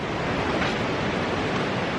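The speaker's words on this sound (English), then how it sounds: "that's the ocean there" Ocean surf at Apsarakonda beach in Honnavar, a steady, loud wash of breaking waves with some wind across the microphone, continuous and unbroken.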